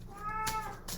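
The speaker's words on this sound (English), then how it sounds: "I love when you're talking to your cat and your cat talks back." A pet cat meows once, a clear drawn-out call at close range with harmonics, followed by a shorter second sound, and no people talking.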